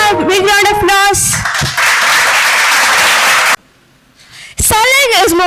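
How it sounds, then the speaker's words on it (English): A school literary festival audience claps steadily for a couple of seconds between stretches of a voice speaking, with a brief near-silent pause before talk resumes. "Can we bring them a big round of applause?"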